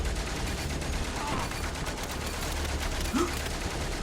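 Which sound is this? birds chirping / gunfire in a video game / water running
gunfire in a video game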